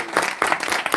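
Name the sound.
audience round of applause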